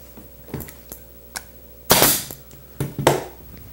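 Staple gun firing into upholstery fabric on an Eastlake chair frame: a handful of sharp, separated snaps, a few light and two or three louder close bangs, with quiet pauses between.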